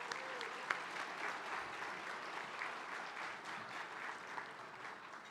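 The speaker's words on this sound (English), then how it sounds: "Let's have a big round of applause for our sponsors here that support the Momentum Awards." Audience at the IBMA Momentum Awards applauding for the sponsors, a steady sustained clapping from a crowd that fades slightly toward the end, with no talking over it.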